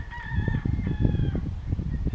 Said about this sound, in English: I can hear the roosters.